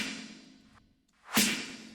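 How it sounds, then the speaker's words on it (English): A reversed snare whoosh sample in Ableton swells in and cuts off sharply, the first building from loud noise and fading, then a second swell rising to a peak with a low tonal hum running underneath. "This is what I call the snare whoosh,"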